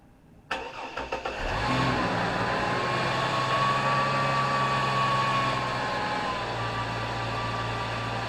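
2004 Chevy Blazer with a freshly fitted, still-empty power steering pump: a cranking start catches into a loud, steady idle with a faint whine running through it, close by and without talk.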